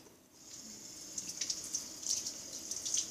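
Water runs steadily from a kitchen sink tap as two eggs are rinsed under it, a soft continuous hiss with brighter splashy bursts, close and alone without any talk.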